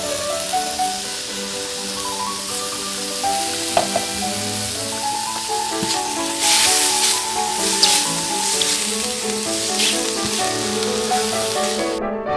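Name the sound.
mushrooms and garlic frying in a pan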